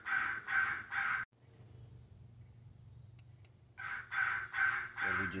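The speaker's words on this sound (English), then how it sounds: "I think I just heard a crow in the distance out of my left ear here." Crow in Indiana cawing in repeated harsh bursts, three caws, a pause, then three or four more, fairly loud over a low outdoor rumble on an evening hunt.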